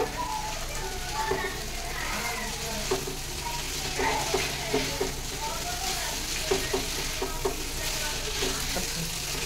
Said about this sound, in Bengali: আমি অল্প অল্প করে এই নুডলসটা দিয়ে দেবো। এবার আমি মিক্স করে নেব।